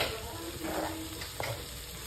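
Leek sizzles steadily in olive oil in a pan, with faint stirring scrapes close by.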